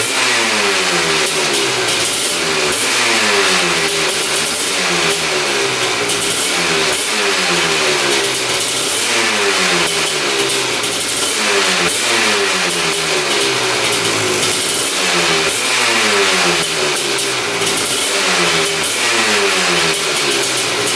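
A Honda TRX quad with a big-bore 310cc engine idles loud and close, its exhaust throbbing in a steady, even rhythm that pulses regularly throughout.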